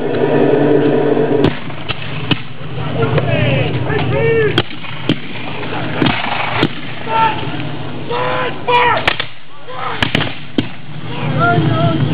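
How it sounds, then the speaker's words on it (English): Musket volleys crack out sharply again and again at a War of 1812 battle reenactment at Upper Canada Village, separate loud reports spread across the scene, with someone narrating in between. "The Glengarrys have moved into a similar formation, and now it's just volley after volley."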